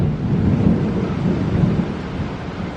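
Thunder from a thunderstorm rolls as a continuous low rumble, loud and sustained, mixed with the hiss of rain.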